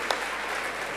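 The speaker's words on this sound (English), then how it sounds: "give yourselves a clap" An audience claps together at a talk on dance and thinking, a dense, even burst of applause that fills the whole short moment, with no talking.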